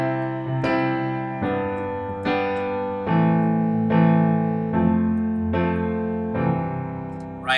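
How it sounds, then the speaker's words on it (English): A common pop chord progression played on a sustained instrument, about eight evenly spaced chord changes each struck and left ringing, close and clear with no talking. "It's a really popular pop chord progression"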